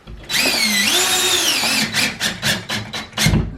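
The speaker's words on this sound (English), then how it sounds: "and screw into the block." A power drill runs steadily, its whine rising and falling as it drives a screw through a cut-to-size drywall patch into a wooden block, then finishes with a series of short bursts.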